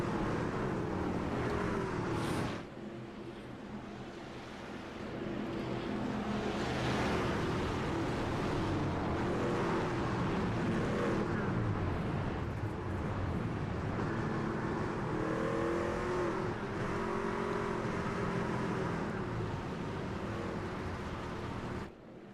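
Race trucks in a Talladega truck-series racing game roar together in a continuous, dense engine drone, with pitch sweeping as the pack runs at speed throughout.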